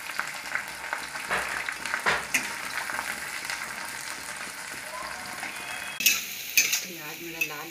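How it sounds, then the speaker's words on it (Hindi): Chopped onion fries in a pan for a tarka, with a continuous sizzle broken by repeated scraping stirs of a spoon against the pan, growing busier and louder near the end. "ये है आपका कटा प्याज, आप डालिए इसमें। इसको थोड़ा चलाते रहिए।"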